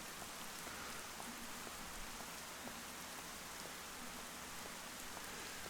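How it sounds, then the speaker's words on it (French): Steady rain falls in a soft, even patter with no pauses, faint and continuous throughout, with no voices. "Allez, il pleut"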